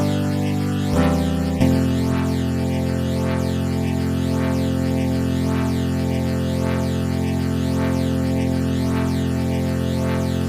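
Ableton Live Chorus-Ensemble effect set fully wet and wide in stereo on a sustained synth tone, a thick, shimmering drone with slow swirling modulation that holds steady after a couple of quick changes near the start.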